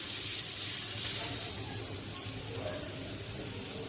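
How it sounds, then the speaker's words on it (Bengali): Chopped onion, green chili and garlic frying in hot oil, giving a steady close sizzle and hiss that runs unbroken throughout. "তেল, পেঁয়াজ কুচি, কাঁচা মরিচ, রসুন দিয়ে কষায় নিতেছি"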